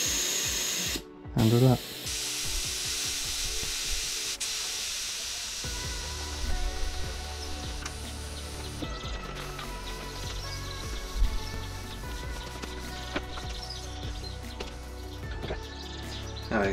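The top of a mountain bike tyre valve is unscrewed during a tyre change, releasing a sustained hiss of escaping air close by, with a brief clatter at the start and someone talking partway through.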